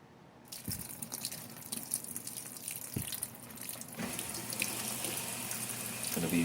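Water rushes into a Whirlpool Cabrio WTW7000 top-load washing machine filling for its first rinse, a steady hiss of flow with occasional drips and small knocks that swells louder partway through.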